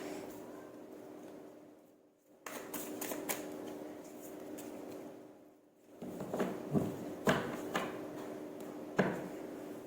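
Tarot cards being shuffled by hand in a series of dry, papery riffling bursts, with short pauses between them and a few sharper card slaps toward the end; no talking.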